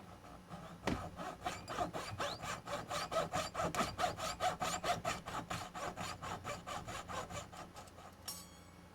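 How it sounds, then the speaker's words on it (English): A jeweler's saw cuts slices into a metal sheet with quick, even back-and-forth strokes, a close rhythmic rasp of about a dozen and a half strokes that stops before a short final scrape. "I'm going to take my jeweler's saw and cut"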